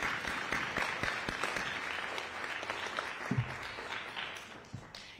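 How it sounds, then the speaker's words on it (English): An audience at the Read to Bee Spelling Bee 2024 breaks into a round of applause, clapping filling the room in a steady crackle that slowly thins out toward the end, with a few louder claps standing out near the middle. "So give yourself a round of applause."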